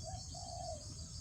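Spotted doves calling outdoors, soft hollow coos that rise and stretch out in two phrases, fairly distant against a steady hiss of insects and wind, with no talking.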